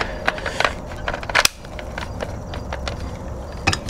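Rifle rounds are pushed one by one into an AK WASR-10 magazine, giving sharp metallic clicks and snaps at close range with a louder clack midway, in an uneven rhythm.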